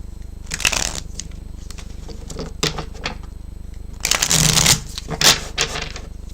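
Cards being riffled and shuffled in several bursts, crisp flapping clicks close by, with pauses between attempts.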